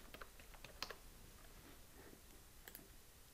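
Quiet clicks of a computer keyboard as a short command is typed, a few scattered keystrokes and one sharper tap standing out over low room hiss.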